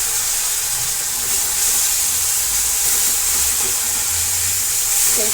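Chili paste sizzles with cumin seeds in hot oil for a dhaba-style garlic fenugreek dish, giving a steady, close hiss that runs throughout with faint low kitchen rumble beneath.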